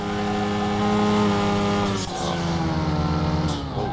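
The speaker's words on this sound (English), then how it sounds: "Give a bit of a rev and off we go" A car engine revs hard in the Car Mechanic Simulator 2021 video game, a loud, dense harmonic roar that holds steady, dips briefly, then climbs again as the car pulls away.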